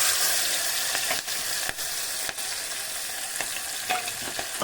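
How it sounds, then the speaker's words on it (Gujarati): Mustard seeds, cumin, asafoetida and green chilies crackle and sizzle in hot oil, a loud, continuous frying hiss close by, broken by several sharp pops and spatters. "જો તેલ આવી ગયું છે. રાઈ નાખી દેવી, જીરું અને હિંગ થોડીક નાખી દેવી"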